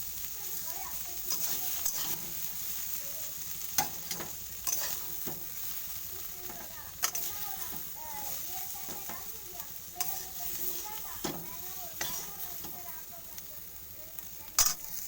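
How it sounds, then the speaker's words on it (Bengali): Sajana greens frying and being stirred in a pan, with a constant close sizzle and repeated scraping of a utensil against the pan at an uneven rhythm, plus occasional sharper knocks. "এইভাবে ভেজে নিতে হবে"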